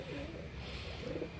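Pigeons in a breeding loft, paired up and sitting on eggs, give faint, low cooing calls in two short bursts against a quiet background hum.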